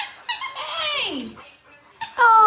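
A squeaky Duck Dynasty dog toy gives several sharp, bending squeaks as a dog plays with it, close and loud, mixed with short vocal sounds.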